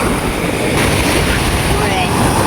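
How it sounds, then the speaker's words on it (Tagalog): A Filipino outrigger fishing boat (bangka) has its engine run as a test on the shore, giving a steady, loud, rough drone that blends with wind and surf noise throughout. "Ayan po titestingin muna ni Tito Deo yung kanyang bangka."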